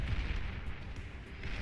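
Video game explosion as an EMP bot detonates among Tech 2 artillery units, a dense rumbling boom with crackling bursts layered over it, loud and continuous for under two seconds.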